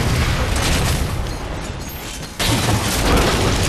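A rocket explodes in the video game Halo 4, a heavy broadband blast and rumble that dips briefly, then surges back loud with a fresh burst.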